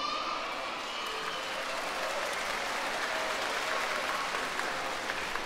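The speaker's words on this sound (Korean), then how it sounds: "큰 박수 아시겠죠?" A kids' concert audience claps steadily, a dense, even wash of applause from a large crowd that holds at the same moderate level throughout.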